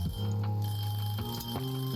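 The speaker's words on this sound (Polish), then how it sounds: "Cicho tam minutnik." A kitchen timer rings in the cooking video game Cooking Simulator: a steady, continuous electronic ringing tone, loud and close, holding for the full two seconds with slight pitch shifts and no talking.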